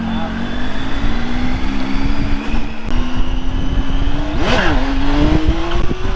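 A Triumph motorcycle engine revs hard and steadily throughout a wheelie, its pitch climbing gradually with a brief dip and surge near the end, loud and close.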